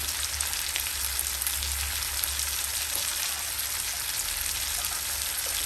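Chopped vegetables, capsicum among them, fry in oil for badnekayi henegai, giving a dense, continuous close-up sizzle with faint crackles and no talking over it.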